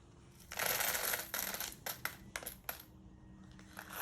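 Small acrylic plastic beads, including gold shell and conch beads, clatter and rattle in bursts, loud at first, then trailing into scattered clicks and light taps.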